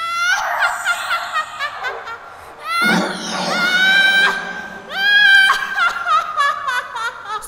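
Shrill, eerie female ghost laughter mixed with screaming bursts from a phone during a horror story reading, loud wavering cackles and wails rising and falling in close succession.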